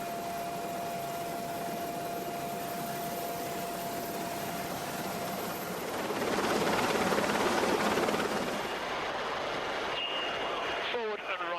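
A helicopter hovers over the sea during an emergency crew evacuation drill, with a steady loud rotor and engine roar that swells midway. A voice talks under the noise.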